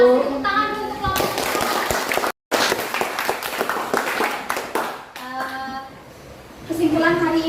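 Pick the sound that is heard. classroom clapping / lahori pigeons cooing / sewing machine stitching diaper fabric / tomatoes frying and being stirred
classroom clapping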